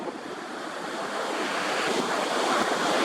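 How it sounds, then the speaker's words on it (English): Steady wind roars across an open microphone at a pier over the wash of surf, a continuous loud rushing with no voices. "The wind is piling up on the pier."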